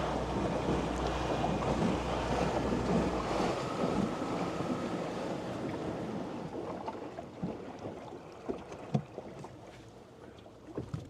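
A boat with an electric outboard motor runs at top speed on the water, heard as loud wind buffeting and splashing hull noise with a low hum that gradually eases and thins out toward the end.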